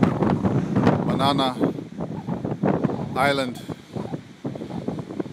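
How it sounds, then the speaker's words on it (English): Strong wind at Makapuu Point buffets the microphone with low rumbling gusts under steady close-up talking, with a few shrill bird-like calls cutting through briefly. "the wind is very strong here today"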